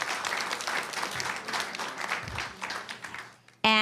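An audience at an evening board reception gives a round of applause, steady clapping that thins and fades out, then a sudden loud tonal sound cuts in at the very end.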